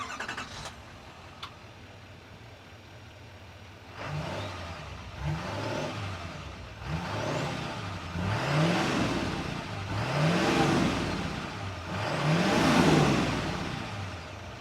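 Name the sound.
exhaust note of 2024 GMC Sierra 2500HD Denali Ultimate truck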